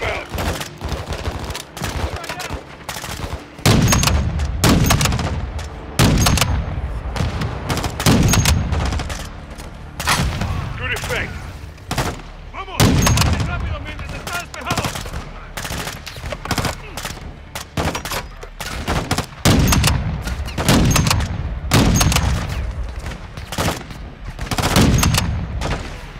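Rapid gunfire fills a Call of Duty: Modern Warfare II campaign firefight, with dense automatic bursts and heavy single shots firing almost nonstop and close, alongside occasional voices.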